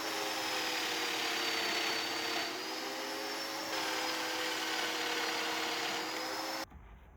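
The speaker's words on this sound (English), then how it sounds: "Then I remove the shelf and route the mortises into the side." A router cuts mortises into the wooden side of a shelf with a loud, steady high-pitched whine that holds for several seconds, dips briefly, and then cuts off abruptly.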